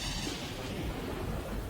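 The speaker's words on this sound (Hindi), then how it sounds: "देखो कैसी भयंकर बरसात हो रही है, हाँ? बिजली भी कड़क रही है" Heavy rain pours steadily in a thunderstorm, with low rumbling thunder beneath a dense, continuous wash of noise, loud and close throughout.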